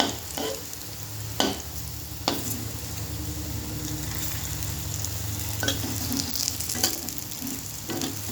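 Garlic fries in a pan with a constant close sizzle, broken by a few sharp scraping knocks of stirring at irregular intervals, and no one talking.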